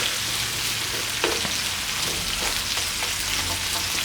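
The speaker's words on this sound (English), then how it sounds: "Now we can toss the meat a bit so that it gets some of this onion flavor inside, absorbed into the meat." Beef and lamb with onions sizzle loudly in a hot pan for a curry as the meat is tossed. The frying hiss is steady and close, with a few soft clinks and stirs through it.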